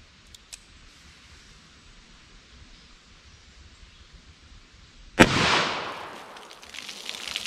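A single sharp, loud gunshot from a S&W Model 69 revolver firing a .44 Special PMC Bronze round, a hard crack followed by a decaying outdoor rumble after a quiet lead-in.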